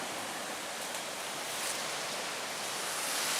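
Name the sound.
Lake Superior waves coming in on rough day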